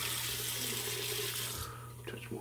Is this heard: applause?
no